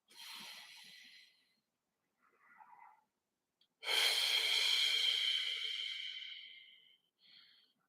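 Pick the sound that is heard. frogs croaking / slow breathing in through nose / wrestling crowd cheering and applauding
slow breathing in through nose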